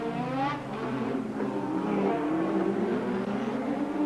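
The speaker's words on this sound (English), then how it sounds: "Now you see Alboreto just coming to the swimming pool complex, Prost behind him" Formula One cars at the Monaco Grand Prix in Monte Carlo, including a Ferrari and an Arrows, scream past near the swimming pool complex, with high revving engine whines rising and falling as they accelerate.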